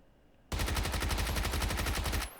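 Rapid automatic gunfire in PUBG, a sustained burst of evenly spaced shots that starts abruptly and runs loud for nearly two seconds before cutting off.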